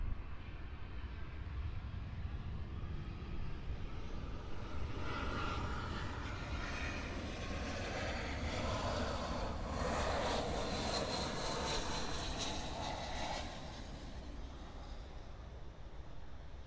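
A jet airliner departing Miami International Airport for Curitiba roars steadily at a distance, swelling slightly in the middle and then easing off, with no talking.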